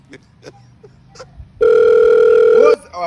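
A phone call's ringback tone sounds as one loud, steady electronic beep lasting about a second, following a few soft taps and quiet background noise.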